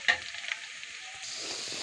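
Browned onions and spices fry in a pan on a stove, a brief close sizzle with a couple of soft clatters at the start before settling into an even hiss.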